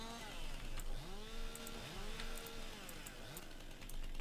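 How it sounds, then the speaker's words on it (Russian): A motorized saw cutting wood in a video game, a continuous buzzing drone that rises and falls in pitch as the blade bites, with faint high clicks over a steady background. "сейчас мы напилим здесь"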